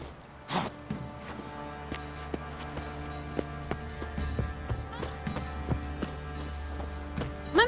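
Geralt's horse Roach galloping in The Witcher 3: Wild Hunt, steady rhythmic hoofbeats on the ground with a brief whinny early and a snort near the end, fairly close and moderately quiet.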